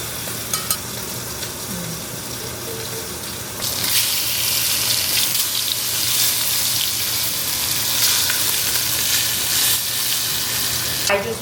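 Food browns in a hot home-kitchen pan with a steady, loud sizzle and frying hiss that swells sharply partway through and holds to the end.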